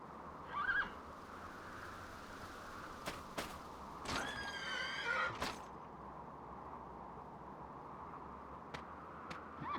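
A horse neighs in Dragon Quest VIII, two faint whinnies, one short and one longer, standing alone over quiet game ambience with a few soft knocks.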